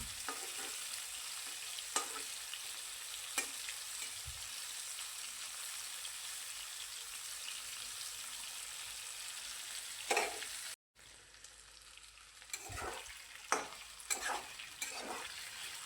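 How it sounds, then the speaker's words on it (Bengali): Eggplant and sweet pumpkin pieces fry in a pan with a steady, faint sizzle and a few soft stirring clicks, briefly cut off near the end before the sizzle returns. "বেগুন মিষ্টি কুমড়োগুলোকে খুব ভালো করে একটু ভেজে নেব।"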